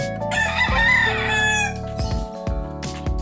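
A rooster crows loudly and close by in a long, strained cock-a-doodle-doo, followed by a few short clucks and shuffles from nearby fowl.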